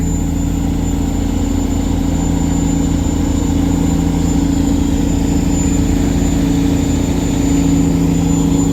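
Boat engines drone steadily on a flooded river as two boats tow heavy barges away from Nakhon Luang, a loud continuous low rumble with a hum, close and unbroken, with no talking.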